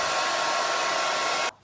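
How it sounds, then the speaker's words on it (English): A hair dryer blows steadily and loudly on a yellow paper sheet, a continuous close airy roar that cuts off abruptly near the end, leaving near silence. "I've just taken out my blow dryer and I'm just drying it here."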